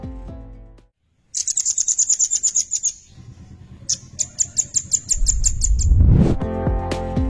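Velvet-fronted nuthatch calling in rapid series of high, sharp repeated notes, clear and close, with other low tonal sounds and a rising swell around it.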